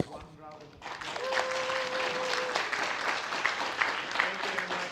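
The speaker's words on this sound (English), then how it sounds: "Let's say thank you to them again with one round of applause." A conference audience breaks into sustained applause after a brief voice, the clapping steady and moderately loud throughout.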